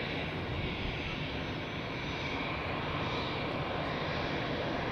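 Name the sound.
airliner taxiing at Zurich Airport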